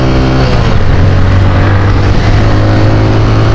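A TVS Raider 125 motorcycle accelerates hard, its engine note climbing in a loud, close, continuous roar, with no talking.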